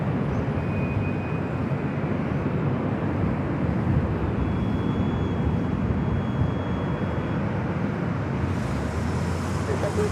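A Boeing 737-800 jet airliner taking off from runway 24 left at LAX, heard as a continuous, broad roar that stays fairly loud and steady throughout, with faint distant background noise.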